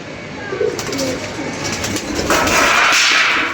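Pigeons coo softly amid a busy, hissy background, with a broad rushing noise swelling toward the end.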